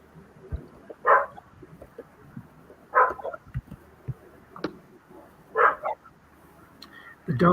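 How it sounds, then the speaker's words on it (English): A dog barks in short bursts, about four or five times spread across the stretch, fairly close, with people talking in the background during a live fantasy football draft. "dog is approving of your pick."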